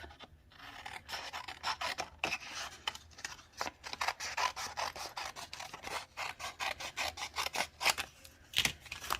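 Paper being cut for a handmade Stampin' Up rain-boot card, a steady run of short rasping snips and rubbing strokes close to the mic, with no talking.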